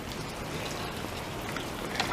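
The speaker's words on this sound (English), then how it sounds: "Starting to rain again." Steady rain falls after a hail storm with heavy winds, a continuous even hiss of drops hitting surfaces outdoors, with no voices.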